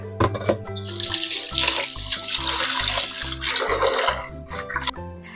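Rice being washed in water in a home kitchen, with steady splashing and running-water swishes, loud and close, rising and falling in bursts, with no voices.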